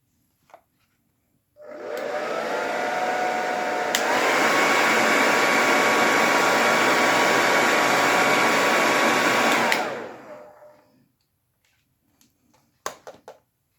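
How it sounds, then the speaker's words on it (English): A handheld hair dryer blows to set makeup powder, switching on with a loud steady whir that rises a notch in power partway, holds for several seconds, then cuts off and winds down. "I'm going to hit this with a hairdryer just for a second."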